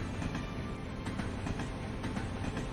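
Cargo train rolling along rails as an audio drama effect: a steady, dense rumble with faint rhythmic clatter, close and continuous, with no voices.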